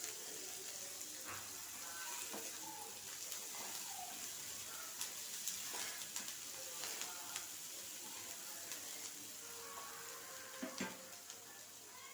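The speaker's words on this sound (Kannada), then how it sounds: "ಸ್ವಲ್ಪ ಹಸಿಮೆಣ್ಸಿಕಾಯಿ ಬೇಯಬೇಕು ನಂತರ ಈರುಳ್ಳಿಯನ್ನು ಹಾಕ್ಕೊಳ್ಳೋಣ" Green chillies frying in a pan for a fish roe stir-fry, with onions to follow, give a soft, steady sizzle broken by occasional light crackles and stirring clicks.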